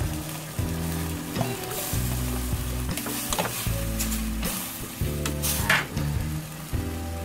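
Bitter gourd (ampalaya) and meat stir-fried dry in a pan, giving a steady close sizzle with repeated scraping and stirring strokes throughout, no talking.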